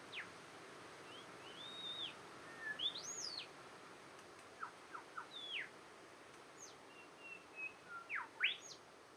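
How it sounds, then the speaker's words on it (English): A small bird chirps outside in scattered, whistly notes that rise and fall, fairly faint over a quiet background hiss. "Can you hear that little bird outside?"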